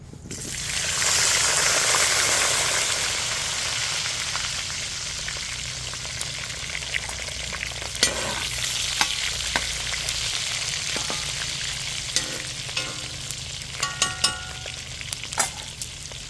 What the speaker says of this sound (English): We let these guys fry up nice golden brown.